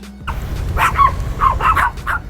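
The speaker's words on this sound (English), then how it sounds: "Hear the barking?" Several dogs bark in short bursts, some sharp and yippy, over a low rumbling background, near trash fires threatening mobile homes in Colony Ridge.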